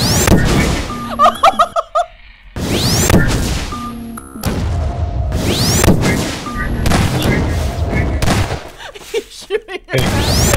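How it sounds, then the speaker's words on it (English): Gunfire erupts in Garry's Mod, loud repeated bursts of shots and crashing impacts in choppy clusters, with game sound effects and players' voices mixed in. "He's shooting at me."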